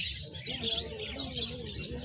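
Bright, scratchy sun conure parrot chirps and squawks repeat quickly and continuously at close range, with no talking.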